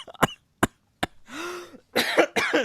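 Several sharp coughs and throat-clearing bursts from a person in a podcast-style conversation, close to the mic, arriving in quick irregular succession with a short voiced sound between them.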